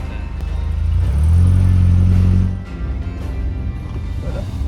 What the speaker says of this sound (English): the little 4-cylinder Hofmeisters putted on